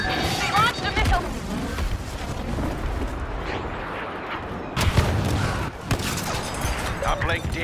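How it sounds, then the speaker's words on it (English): A missile launch and explosions in the Star Wars Battlefront video game, with booming blasts, rushing whooshes and sharp impacts piling up loudly, interrupted by a sudden heavy burst midway, while game voices talk over the chaos. "They launched a missile!"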